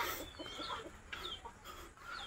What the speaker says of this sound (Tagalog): Yan yung mga manok natin guys oh